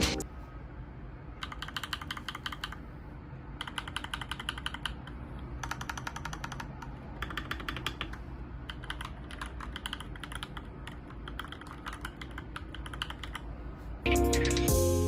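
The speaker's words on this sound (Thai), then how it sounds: "ลองมาฟังเสียง Purple Switch ของคีย์บอร์ดตัวนี้กัน" Rapid clicky typing on a Redragon K656 Pro mechanical keyboard with purple switches, in bursts separated by short pauses, close and crisp, ending with a louder thump.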